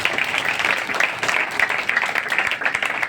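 A church congregation claps together in a dense, steady burst of applause, loud and close, with a faint voice mixed in.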